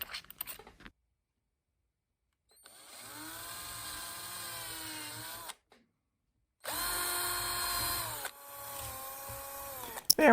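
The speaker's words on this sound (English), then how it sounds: "Now I'm using a very small bit to be able to drill these holes." Two bursts of a small power drill with a very small bit whining at steady high speed while drilling pilot holes, each lasting a few seconds, separated by silence, close up.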